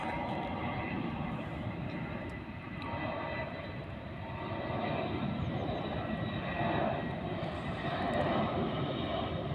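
A loud, steady engine roar of an airplane landing close overhead near an airport in Germany, swelling slightly toward the end, with no talking.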